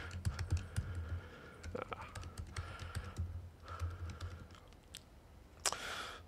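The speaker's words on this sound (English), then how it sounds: "if I can type correctly." Someone types on a computer keyboard up close, with irregular clusters of quick key clicks and a few pauses, fairly quiet against faint background noise.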